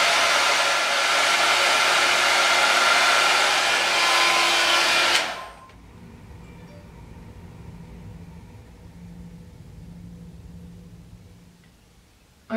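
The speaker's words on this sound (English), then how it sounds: "I haven't finished blow drying it yet, it's still quite damp at the top" A hair dryer blows damp hair with a loud, steady rushing whoosh for about five seconds, then shuts off, leaving a quiet room with faint low background hum.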